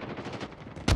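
Burst of gunfire in the Call of Duty Mobile shooter game, a loud sharp blast arriving at the very end after a stretch of steady busy game noise.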